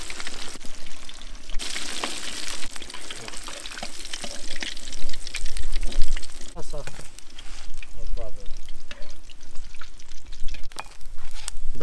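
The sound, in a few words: nutria meat frying in a kazan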